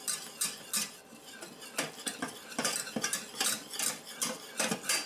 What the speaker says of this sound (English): Stirring constantly until it's nice and smooth and bubbly.